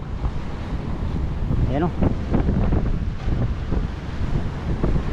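Wind buffets the microphone over a steady wash of sea waves on a boat crossing from Mindoro toward Navotas, a constant rough roar with a voice talking through it.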